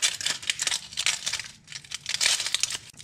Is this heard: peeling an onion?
yes